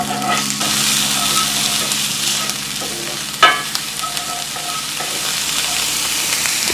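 Thyme leaves and aromatics sauté in a hot pan with a steady, loud sizzle up close, broken by occasional spoon scrapes and one sharp clack about halfway through.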